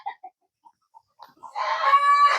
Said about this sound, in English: You can hear the chickens chatting.